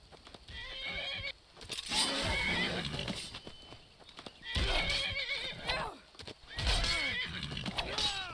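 Shadowmere, a horse in The Elder Scrolls V: Skyrim, whinnies repeatedly amid galloping hooves and combat noise, with loud bursts separated by brief quieter gaps.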